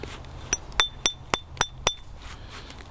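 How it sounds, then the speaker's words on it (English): A hammer stone strikes basalt during flintknapping, making sharp, ringing clicks. About seven crisp, evenly spaced blows land close by at roughly quarter-second intervals against a quiet background, followed by one fainter tap at the end. "This I'm just gonna use a hammer stone."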